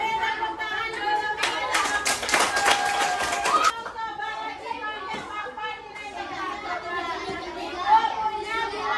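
Children applaud in a classroom with a burst of brisk clapping lasting about two seconds, then the room fills with lively kids' chatter.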